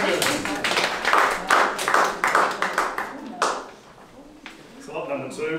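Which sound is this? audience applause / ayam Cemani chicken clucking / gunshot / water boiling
audience applause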